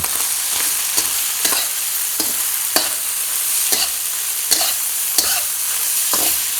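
Pork fried rice with chopped whole green onions is stir-fried in a hot pan. A loud, hissing sizzle is broken by regular, rhythmic spatula scrapes about every half second, with no voices.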